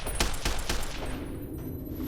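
Rapid automatic gunfire in the video game Fallout: New Vegas, a few loud close bursts of shots in quick succession, then a ringing tail that fades out.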